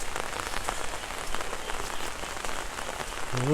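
Steady rain during a stormy day patters densely on surfaces close by, a continuous hiss of drops with no voices, ending in a brief tonal croak or call.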